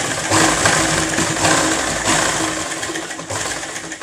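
A sewing machine stitches a hand-sleeve design with frills, running in a steady fast whir with slight pulses in speed, close and fairly loud, with no voices.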